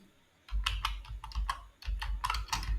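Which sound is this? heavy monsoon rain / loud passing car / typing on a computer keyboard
typing on a computer keyboard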